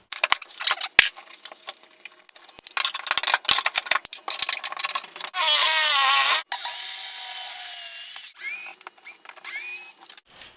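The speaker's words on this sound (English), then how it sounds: "I need to cut out a section of the floor up here" Power saw cutting a section out of a workshop floor, with bursts of rough cutting and clattering, then two sustained high whining runs of the motor, loud and close, with no talking.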